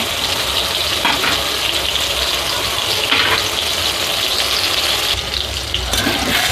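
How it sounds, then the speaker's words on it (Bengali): Mushrooms frying in a pan until reddish, producing a loud, dense, continuous sizzle that stays steady and close throughout with slight swells. "এই ছাতুটাকে এরকম লাল লাল করে ভেজে নিতে হবে"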